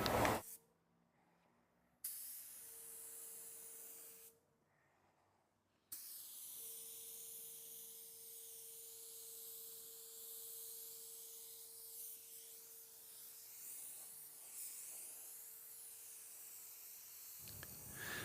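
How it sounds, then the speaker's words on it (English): A spray gun laying clear coat onto a car bumper at home, giving soft steady hissing bursts: two short sprays, then a long continuous pass that grows louder toward the end, with a faint background tone. "so I can spray this bumper more efficiently"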